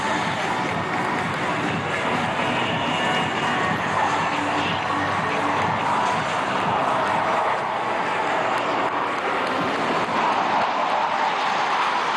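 Jet aircraft roar overhead at the Chennai air show, including Surya Kiran and Sarang display teams, as a steady, loud, broadband rush that holds for the whole stretch with faint crowd noise beneath.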